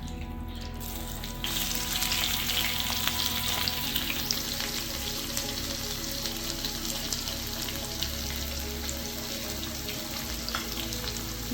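Sliced onions fry in hot oil with curry leaves for bread paneer rolls, making a loud, continuous sizzle that swells a second or two in and holds steady, with light stirring and no talking.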